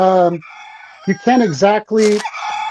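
A rooster crow plays as a phone alarm: a loud, close, electronic-sounding cock-a-doodle-doo with clucking phrases, standing alone.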